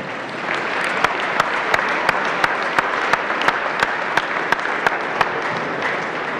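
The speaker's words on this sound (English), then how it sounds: "Let's give everybody a round of applause at this time." Steady applause from a basketball reunion crowd, dense clapping throughout, punctuated by a few sharper, louder individual claps at a regular pace.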